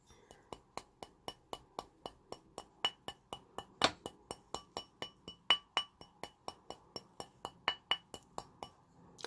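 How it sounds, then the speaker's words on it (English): Light hammer taps on metal to work-harden it, a steady series of about thirty crisp, ringing ticks spaced roughly a third of a second apart, quiet and close, with a few louder strikes. "And I'm just lightly tapping it."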